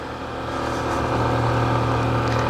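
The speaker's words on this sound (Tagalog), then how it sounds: "Parang may naririnig akong umuugong na ano, motor ba yan? Kotse? Parang parating eh." A car or motorcycle engine hums steadily and grows slightly louder as it approaches, a continuous mid-low drone heard alone on a road trip to a dam.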